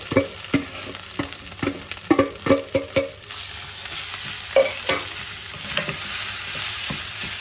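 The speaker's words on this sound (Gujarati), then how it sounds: "હવે આપણે આ જે બટેકા છીણી લીધા છે એ આપણે આમાં નાખી દઈશું" Grated potatoes tossed into a hot pan with oil and asafoetida while making bataka vada, sizzling steadily with a run of sharp scraping stirs and utensil knocks up close, then settling into a softer continuous fry.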